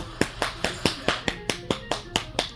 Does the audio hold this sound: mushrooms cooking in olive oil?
no